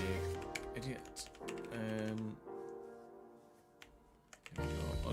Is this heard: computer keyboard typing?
yes